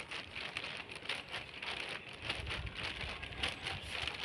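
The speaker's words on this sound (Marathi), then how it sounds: "आज बघा असं पाऊस झाला" Steady rain patters on a surface, a soft continuous hiss with scattered drops, fairly faint and without voices.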